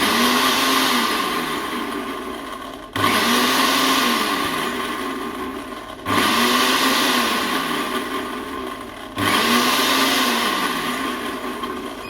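A Moulinex Perfect Mix+ (LM811D) blender runs loud and steady, its motor pitch sagging and recovering in four regular cycles of about three seconds each, with no voices.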